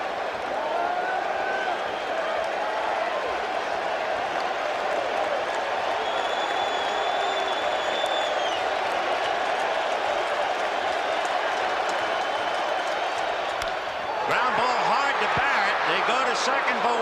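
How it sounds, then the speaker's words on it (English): A large Fenway Park crowd at the 1986 World Series Game 6 between the Red Sox and Mets roars steadily throughout, a dense sustained wall of noise with a broadcaster talking over it and a surge near the end. "The crowd was chanting Roger"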